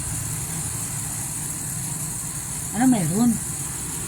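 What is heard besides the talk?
engine running nearby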